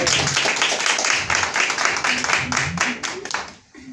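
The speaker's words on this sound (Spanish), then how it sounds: "Un aplauso por favor a Claudia" A group claps for Claudia at a geotourism gathering in Sierras Bayas, Argentina, brisk and fairly loud with a roughly rhythmic pulse and some voices mixed in, before the clapping trails off at the end.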